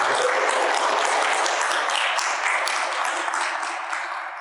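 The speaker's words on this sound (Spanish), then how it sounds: "No esperaba aplauso, de verdad" Audience clapping after a talk, a dense, sustained burst of applause from a crowd that gradually thins toward the end, with no voices over it.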